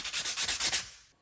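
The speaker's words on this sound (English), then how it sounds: "just put a little sandpaper and sand this thing down" Sandpaper rubs by hand over a Porsche Cayman/Boxster 987 brake part, about six quick scratchy strokes in a steady rhythm, close and fairly soft, then fading out.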